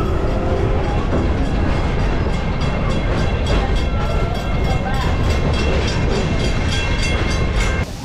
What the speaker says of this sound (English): coming up on your left hand side is our yellow train